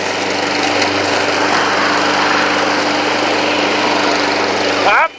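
A lawn mower engine runs loud and steady nearby on a hot day, a constant high buzzing drone that cuts off abruptly at the end.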